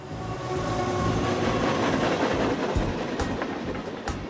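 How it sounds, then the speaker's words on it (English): A train rolls past near an old tin barn northeast of Oklahoma City, a loud, steady rumble of rail cars with rhythmic clattering wheels and rattling that holds throughout. "he can hear the train as it goes by"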